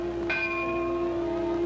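A ship's bell strikes before passengers board a Pan Am Clipper flying boat. A single clear metallic strike rings out and its tone sustains and slowly fades over the rest of the moment, fairly quiet and alone.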